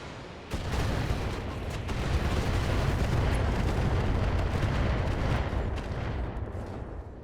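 A BattleTech mech fires all its weapons at once, a loud roaring salvo that rises sharply and rumbles steadily for several seconds with crackling impacts within it.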